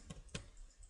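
Two sharp, faint keystrokes on a computer keyboard tap out a short entry in a quiet room, well spaced and isolated.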